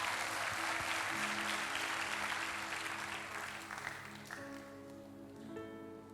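A congregation at a JCC Cijantung church service gives hearty applause, a dense even patter of many hands from a large room that slowly fades as soft keyboard notes come in.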